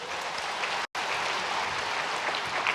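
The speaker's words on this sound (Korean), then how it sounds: "수여할 때 큰 박수로 축하해 주시기 바랍니다" A church congregation claps steadily for children receiving medals at a Sunday service, the dense applause continuing throughout at a moderate, somewhat distant level, with one abrupt gap of silence near the start.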